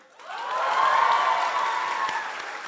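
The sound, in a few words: students applauding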